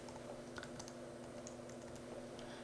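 Quiet, quick keystrokes patter on a computer keyboard as a formula is entered in QGIS mapping software, light clicks over a low steady background hum.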